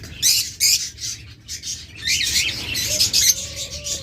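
Caged pet birds offered for sale, lovebirds, budgerigars and cockatiels, squawk and chirp in sharp repeated bursts close to the microphone, with no talk.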